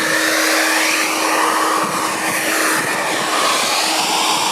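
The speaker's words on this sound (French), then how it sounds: "Le sèche-cheveux 2000 watts, je vais le faire tourner à 500 watts." A 2000-watt hair dryer runs at reduced power off a portable power station, giving a steady, loud broadband whoosh with a faint motor hum throughout, no voices.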